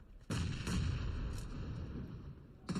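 A grenade blast in the mobile battle-royale game BGMI during an esports league match, a loud booming burst with a sharp onset that rumbles on, followed by another sharp hit near the end.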